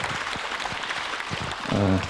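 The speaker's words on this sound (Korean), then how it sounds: "그럼 박수 한번 치세요" An audience at a Buddhist dharma service gives brief, scattered applause with separate claps at a moderate level, and a voice briefly speaks near the end.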